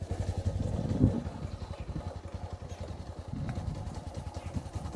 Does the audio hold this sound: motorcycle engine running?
yes